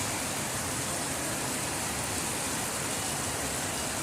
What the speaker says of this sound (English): Well, snowing and raining.